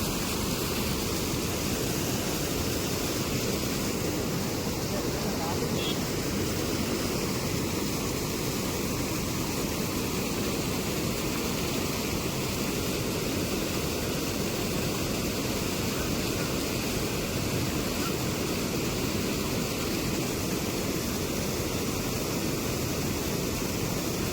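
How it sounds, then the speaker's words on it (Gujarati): Continuous loud roar of rushing floodwater after heavy rain, steady and broadband throughout with no pauses and no voices. "પાણી બહુ જ આવી ગયું છે."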